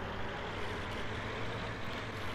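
A continuous engine rumble and road noise from a car driving in the video game Dead Island, steady and fairly loud, with no voices.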